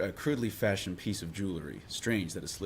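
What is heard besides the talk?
No everyday noises stand out.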